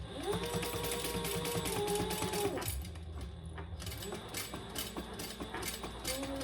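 A sewing machine stitches a seam on a waist pack in a steady close whir with a constant mechanical hum, pausing briefly partway through before running on more softly. A tone sweep sounds at the start.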